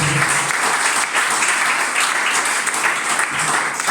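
A church congregation breaks into strong applause during a Spanish-language morning worship service, a loud, dense burst of many hands clapping that carries on without a pause for four seconds.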